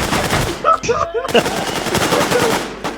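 Gunfire in the online shooter Warz Infestation, rapid bursts of shots mixed with excited shouting from players over the game sound.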